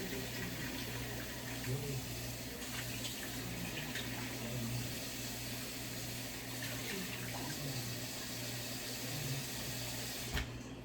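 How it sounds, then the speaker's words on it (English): More water poured into a pot of cooking soup makes a steady, continuous rush of liquid that runs unbroken for about eleven seconds over faint background hum. "Now we're going to add a little bit more water in it"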